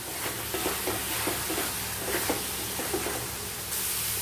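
Mushrooms fry in butter with pepper, a constant soft sizzle and hiss broken by rhythmic scraping strokes of a spoon stirring the pan, no voices.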